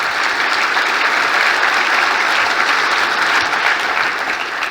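Sustained applause from a large keynote audience at a business technology event, steady and dense clapping filling the room for the full stretch at an even, loud level with no talk over it.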